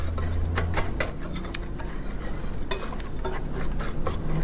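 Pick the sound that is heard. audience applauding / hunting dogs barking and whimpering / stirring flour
stirring flour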